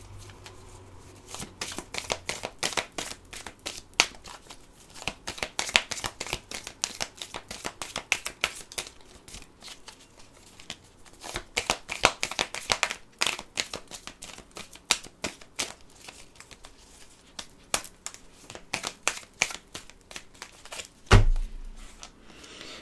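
Tarot cards being shuffled and cut, a long run of rapid riffling flutters in bursts with short pauses, close and crisp, ending in a single heavier thump.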